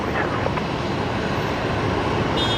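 A jet airliner taxis at Brisbane Airport at night ahead of departure, a loud, steady engine roar and rumble close by with no break.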